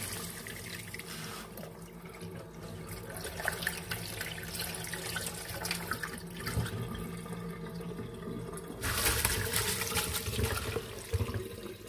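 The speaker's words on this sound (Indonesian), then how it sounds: "kita akan siram lagi dengan air dingin" Cold water poured from a tap over freshly made spätzle noodles in a kitchen sink to rinse and drain them, a steady close splashing stream that swells louder near the end, with no talking.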